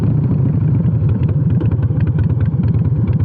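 A 2006 Softail Deluxe motorcycle with Vance and Hines Short Shots exhaust rumbles loudly and close by, a deep, choppy exhaust pulsing steadily throughout.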